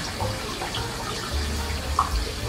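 Water is poured onto a potted aglaonema plant in porous potting mix and drains straight through, making a steady close trickling and splashing sound with no talk.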